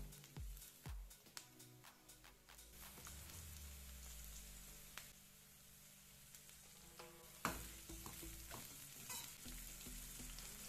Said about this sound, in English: Give it a quick stir so nothing burns, and we'll add our peppers.